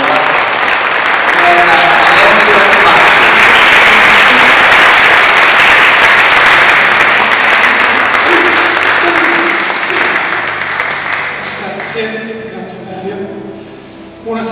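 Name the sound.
audience applause at a book presentation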